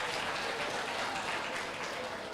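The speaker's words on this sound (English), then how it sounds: "Applause, please." Audience applause at a university seminar on student happiness and wellbeing, a faint, steady wash of many hands clapping throughout.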